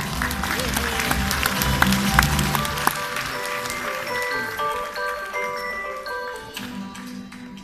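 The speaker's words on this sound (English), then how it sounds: "Another round of applause for Mr. Albert Gingino" Applause from an awards audience in Baguio City honors a community-service awardee, a moderate spread of clapping mixed with tonal background sounds, steady before gradually thinning out.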